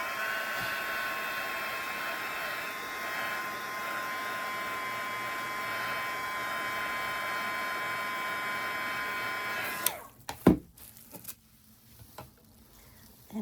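A heat tool blowing hot air over resin drips on an ocean-themed resin artwork, a steady whooshing hum for about ten seconds that cuts off abruptly, followed by a few light clicks and knocks.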